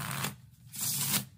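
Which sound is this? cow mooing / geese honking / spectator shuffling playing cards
spectator shuffling playing cards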